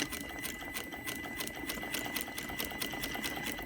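Sewing machine stitching an invisible zipper down to the bottom marking line, running as a steady, continuous rapid whir with a fast needle clatter throughout, close and alone.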